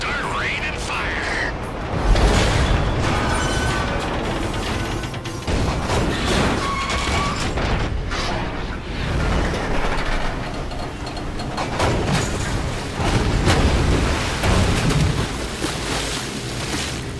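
In the video game Grand Theft Auto V a train is blown up, giving a sustained rumbling roar with crashing, booming bursts throughout, loud and close, with game voices talking over it.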